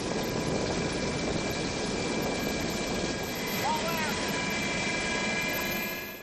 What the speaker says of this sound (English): get the patient safely on board the medevac helicopter